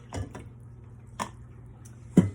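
Water is poured from a measuring cup into a disinfectant bin for salon implements, making a few short splashing, dripping bursts, the last one louder and close.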